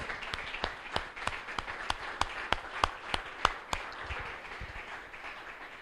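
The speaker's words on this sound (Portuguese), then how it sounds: "Então palmas ao Senhor Jesus mais uma vez." A church congregation claps together in slow, sharp, rhythmic beats, fairly distant and modest in volume, thinning out toward the end.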